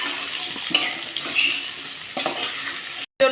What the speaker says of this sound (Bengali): আলুটা লাল লাল করে ভাজা হয়ে গেছে, এবার আলুটা তুলে নিব।